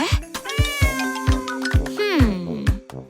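A cat meows again and again at bath time, a run of short sharp calls and longer drawn-out wails, loud and close, with a few bumps and scrapes in between.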